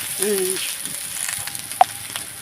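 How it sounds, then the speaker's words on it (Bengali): Drumstick flowers stirred and fried with onion in a home kitchen pan give a steady, soft sizzle with faint scraping from the stirring and one brief clink near the end. "ফুলগুলো মা সব দিয়ে দিয়েছে দিয়ে পেঁয়াজের সঙ্গে নাড়াচাড়া করছে"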